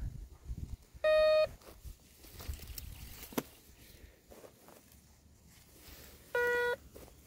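A DR.ÖTEK MT-XR metal detector gives two short electronic beeps several seconds apart, each a clear tone of about half a second, above a faint background of rustling and handling.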